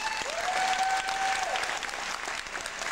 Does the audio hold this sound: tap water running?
no